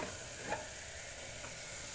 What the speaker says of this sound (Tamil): இப்போ பாருங்கள் தக்காளி நல்லா வதங்கிருச்சுங்க